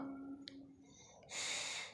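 A quiet, close nasal sniff followed by a longer breathy inhale through the nose, soft and brief.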